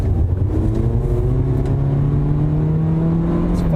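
A 2016 Toyota Corolla S in sport mode accelerates hard, its engine note climbing steadily in pitch as revs build, loud and continuous from the cabin with no talk.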